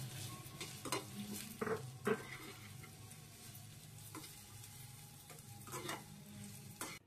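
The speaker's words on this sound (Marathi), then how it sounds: "आता आपण त्याच तुपामध्ये थोडेसे खजूर आहे ना ते परतून घेऊया" Dates frying in ghee in a pan for ragi modak, with a soft, steady sizzle broken by a few louder clinks and scrapes as a spoon stirs; no one speaks.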